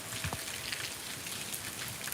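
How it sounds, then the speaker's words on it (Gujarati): Heavy monsoon rain pours down steadily over village peanut fields near Khambhalia, Dwarka district, a dense close-up patter drumming on surfaces with no voices. "વરસાદ જોવો લ્યો"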